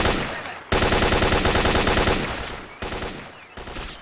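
Rapid automatic gunfire in the video game S.T.A.L.K.E.R. Call of Pripyat, loud, dense bursts of shots running almost continuously with brief breaks between volleys.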